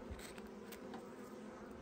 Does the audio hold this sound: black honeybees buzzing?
yes